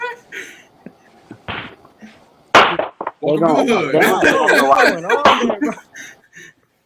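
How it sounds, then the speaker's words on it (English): Outdoor fireworks go off as a few sharp, distant pops and bangs, scattered among loud, lively conversation and laughter from several people. "hey, fireworks are legal, Tay."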